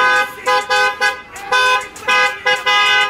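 A car horn honks in a quick series of short, loud beeps in an uneven rhythm, close by.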